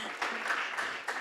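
Short burst of audience applause at the Wolves Summit startup finals, a steady patter of many clapping hands with a couple of louder swells, heard fairly close in a conference hall.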